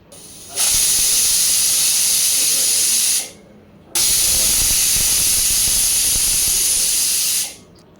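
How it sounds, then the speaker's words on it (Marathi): A pressure cooker cooking usal over medium heat releases two loud, sustained hissing bursts of steam, each lasting a few seconds with a short quiet gap between them. "कुकरच्या मीडियम आचेवरती साधारण तीन शिट्ट्या काढून घ्यायच्या"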